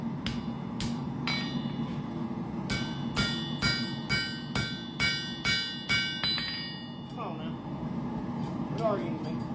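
A hammer rings sharply on a titanium knife blank against an anvil face, a series of bright metallic strikes in an uneven rhythm, close and clear over a low background hum, with someone talking intermittently.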